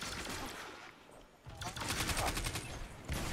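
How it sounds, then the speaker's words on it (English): SMG gunfire in the video game Destiny: rapid bursts of automatic fire crackling in quick succession, loud and close, with voices talking over the shots. "Yeah, I think it's an SMG."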